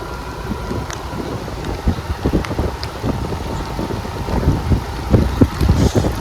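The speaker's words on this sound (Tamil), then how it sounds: "காற்று பாருங்க எந்த அளவுக்கு அடிக்குங்க." Strong wind sweeps across a campsite in Munnar, a deep rumbling roar that buffets the microphone in uneven gusts and swells louder toward the end, with no one speaking.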